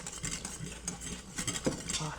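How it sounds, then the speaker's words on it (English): A metal whisk stirring chicken gravy in an Instant Pot, with quick, steady scraping and clinking of the wires against the metal pot, close up and without talk. "And I'm going to whisk that in as well."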